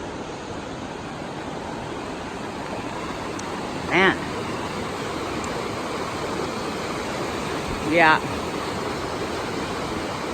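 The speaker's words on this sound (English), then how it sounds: "Definitely flowing high, but not as high as it has been this season." A mountain river runs high beneath a footbridge on a trail in Diamond Park, a broad, steady rushing roar close by, with two short spoken words rising briefly over it.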